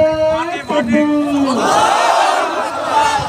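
A crowd at a religious protest rally in Parbatipur chants slogans in unison, a leader's voice calling out and many voices answering in a loud, sustained swelling roar.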